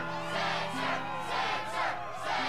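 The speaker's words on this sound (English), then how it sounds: "Yes, the crowd is fired up," Crowd cheering in the Kingdom Hearts 2 video game, a steady, loud roar of many voices that swells and surges in waves over a low sustained musical drone, with no speech.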